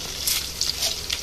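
Lentils sizzle and crackle in hot oil in a pan while potato fry is being cooked, a steady bright frying hiss with small bursts of popping, close and fairly loud.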